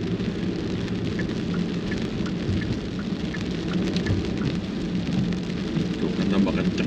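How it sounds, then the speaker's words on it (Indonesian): Steady heavy rain pours down in a continuous dense wash, with faint occasional drips and a low rumble beneath. No one speaks over it. "tambah kenceng hujannya"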